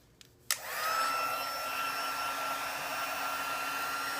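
A hair dryer clicks on and runs steadily with a constant whine and rushing airflow, close and loud, drying vintage craft tags, after a couple of faint clicks beforehand.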